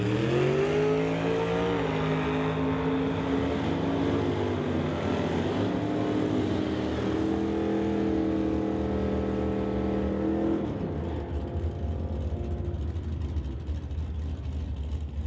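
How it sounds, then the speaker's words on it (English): An S10 pickup and a 1972 Chevelle launch side by side at a drag strip, two loud sustained engine roars climbing in pitch together before one drops off sharply near ten seconds. "As our next pair roll forward, Jeff Whitworth from Nanaimo in the S10 here on the tower side, and Walter Johnson in the 72 Chevelle on the spectator side."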